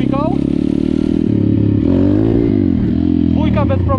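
A Loncin 125 motorcycle pulls away hard in second gear, its engine note rising steadily with a brief dip at a shift, loud and close from start to finish.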